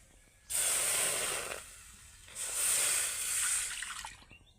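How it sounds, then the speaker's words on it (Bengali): Orange juice mixed with cornflour poured into a hot pan, giving two loud hissing bursts of sizzle with a brief quieter gap between them, close and without speech. "এখন আমি কড়াইতে যে অরেঞ্জের জুস আর কর্নফ্লাওয়ারটা একসাথে মিক্স করে রেখেছিলাম সেটা দিয়ে দেবো"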